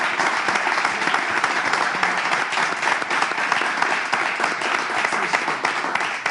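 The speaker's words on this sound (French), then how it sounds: "Je l'applaudis" Continuous loud applause from a large audience, many hands clapping densely and evenly with no pauses from start to finish.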